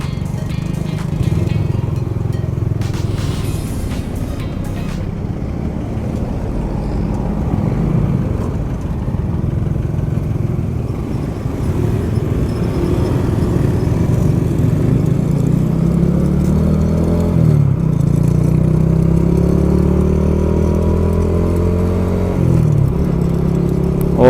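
Heavy road traffic is heard from a moving motorcycle through a helmet-mounted phone: constant loud engine drone and wind rush, with passing vehicles swelling and fading nearby.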